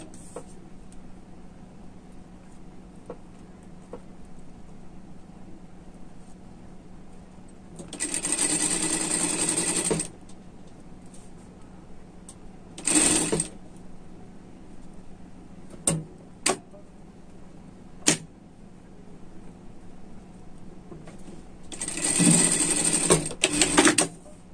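A sewing machine stitches a collar onto a sweater in short bursts: a longer run of stitching, a brief spurt, a few quick taps, then another longer run, with quiet handling between.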